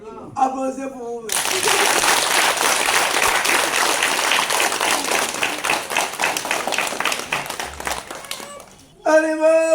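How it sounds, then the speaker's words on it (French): Applause and clapping from an audience at a traditional ceremony where an emperor invokes the ancestors, breaking out loud and dense for about eight seconds between stretches of talk at the start and end. "Applaudissez pour vous."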